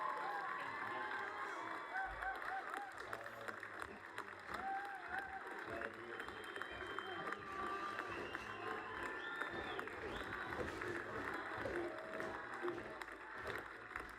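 A crowd applauds and cheers after a candidate's campaign speech in a live debate setting. The sustained clapping and scattered shouts stay fairly distant and steady throughout.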